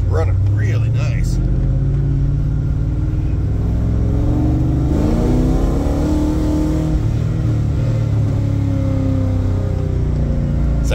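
Ford EFI 460 V8 4x4 dually truck with stage 1 cam and 1.8 ratio roller rockers revving hard on a wet road, a loud continuous rumbling engine note that swells and falls with tire spin while someone talks over it.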